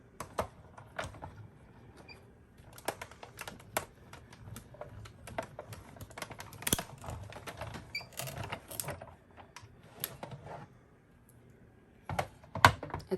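Cut-and-emboss die sandwiched between clear plates and fed through a manual die-cutting machine, heard as a run of close, sharp clicks and ratcheting knocks in irregular bursts against a quiet background.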